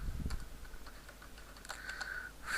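Quiet clicking of keys on a computer keyboard as code is typed, a short run of soft, irregular taps up close with no talking.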